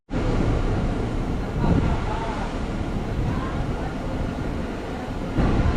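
An MMTS Hyderabad local train running from Deccan (Nampally) toward Lingampally gives a continuous, close rumble and rattle from inside the carriage, with an onboard voice announcement over it.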